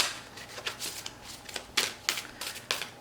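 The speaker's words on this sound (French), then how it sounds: "J'ai envie de tirer une autre carte" Oracle cards are shuffled and drawn by hand, a close series of crisp riffling flicks and slaps in uneven bursts, with no voices.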